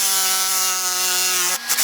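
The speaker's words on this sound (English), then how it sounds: "cut out each of these circles using the jigsaw" A jigsaw cuts circles out of 2x6 lumber boards, giving a steady, loud buzzing whine with strong harmonics that holds even for nearly two seconds before breaking off into a few brief rattles.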